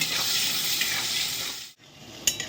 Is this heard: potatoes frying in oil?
yes